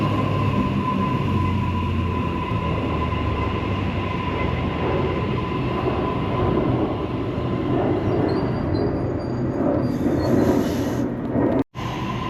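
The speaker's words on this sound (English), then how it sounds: "Now A13 is departing for a service to Homebush." An A-set passenger train departing a suburban Sydney station platform, with a loud, steady rumble of motors and wheels close by throughout, a faint high wheel squeal, and a brief drop near the end.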